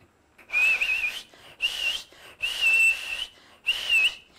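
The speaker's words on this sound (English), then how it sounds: "Can you blow a whistle?" A person whistles a melodic tune in four clear phrases separated by short pauses, close to the microphone, with no talking.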